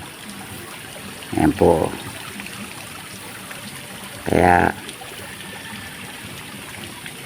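Water runs from a damaged hose in a small falls-like stream, a steady gentle trickle heard throughout, while a person speaks briefly twice over it.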